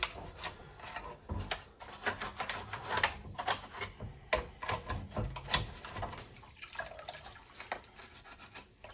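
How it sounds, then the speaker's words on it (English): Close scrubbing of a plastic GI Joe Tomahawk toy helicopter part during restoration, a busy run of short rasping, rubbing strokes with small wet drips, steady and continuous throughout. "I'll just scrub in there too."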